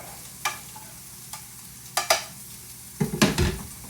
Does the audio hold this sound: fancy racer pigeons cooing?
no